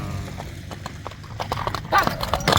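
Racing horses gallop past with rapid, clattering hoofbeats on hard ground that grow louder toward the end, joined by faint snorts and brief background voices.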